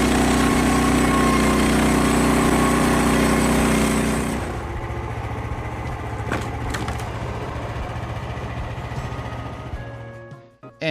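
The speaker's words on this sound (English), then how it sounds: "I'm going to be cutting this yellow pine here into 1x6s with my Norwood LM30" A Norwood LM30 sawmill cutting yellow pine into 1x6 boards, with a loud engine and blade roar that suddenly drops to a lower idle partway through, then a few clanks and knocks before it fades.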